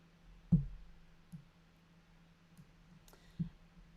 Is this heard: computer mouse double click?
yes